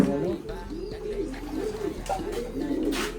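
Domestic pigeons coo steadily in a loft, soft rolling calls repeating close by over a constant low hum.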